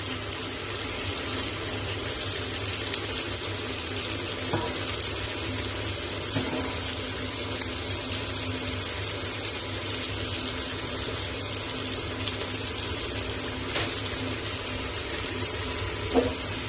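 Water pours steadily into a cooking pot for chicken haleem with lentils, a continuous broadband rush that holds level for the whole stretch, with a few faint clicks.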